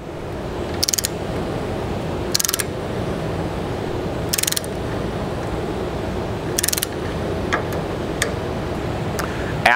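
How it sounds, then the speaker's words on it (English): A torque wrench tightens a fastener on a leveling system, giving several sharp ratcheting clicks spaced a second or two apart over a steady mechanical background hum, heard close up without talk. "Only tighten till the torque wrench clicks once."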